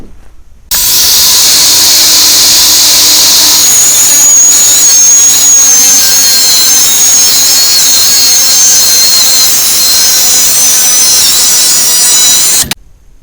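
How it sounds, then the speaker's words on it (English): A power saw cuts through a row of overhanging cedar boards in one continuous pass, a loud, close, high whining shriek that holds steady for about twelve seconds before stopping abruptly. "I cut it all at one time with a saw"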